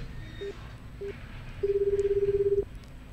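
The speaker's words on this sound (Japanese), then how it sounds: "そろそろね、うん、お電話してみましょうかね" Telephone dialing to place a call: two short touch-tone beeps, then a longer steady tone lasting about a second, loud and close with no voices.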